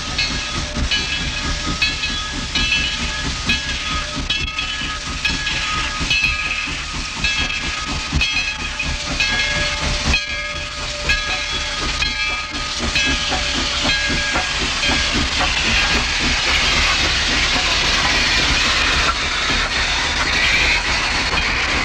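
Steam locomotives 630 and 722 hiss steadily in a rail yard while being readied for a trip, loud continuous venting with faint tonal whistle-like lines and clanks, growing into a louder rushing hiss near the end.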